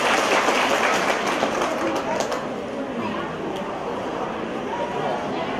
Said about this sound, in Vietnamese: xin mời chúng ta cho một tràng pháo tay thật lớn thưa anh chị em